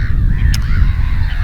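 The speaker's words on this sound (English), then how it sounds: "I think pink-footed geese, maybe." Pink-footed geese honking at night over mud flats on a beach, a few faint, distant calls against a low steady rumble of wind or surf.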